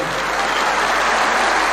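A religious congregation at a spiritual gathering in Sirsa breaks into sustained applause, a dense, steady wash of clapping from a large audience that fills the whole short stretch without pause.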